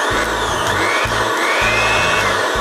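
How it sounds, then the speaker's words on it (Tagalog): A 400-watt electric blower powered by a Yoobao EN300WLPD LiFePO4 power station runs with a loud, steady whirring hum, its low motor tone pulsing slightly and unevenly, close by with no talk. "Subukan na lang natin sa 400 watts na blower."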